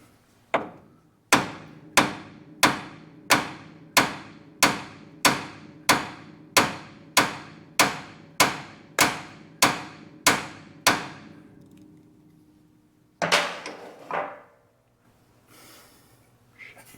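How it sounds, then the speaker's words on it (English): Heavy hammer blows strike the metal steering parts of a 1957 Chevrolet Bel Air in a steady rhythm, about a dozen ringing hits, followed by a pause and a couple of scraping clanks. "Maybe a hammer."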